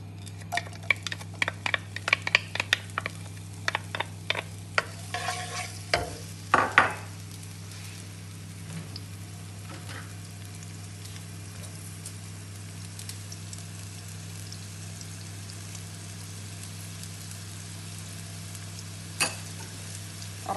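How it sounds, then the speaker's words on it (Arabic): Onion sautéing in olive oil in a pan, a steady close sizzle running throughout, with utensil clinks and stirring scrapes in the first seven seconds before the frying settles into a continuous hiss. "غادي ندير شويه ديال الزيتون، شويه ديال زيت الزيتون، وغادي ندير فيه داك شويه ديال البصيله"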